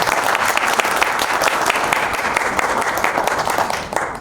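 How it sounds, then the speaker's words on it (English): Big round of applause from a large audience at an HR leaders' convention and awards event, dense and steady throughout before tapering slightly at the end. "Can you give a big round of applause for yourself?"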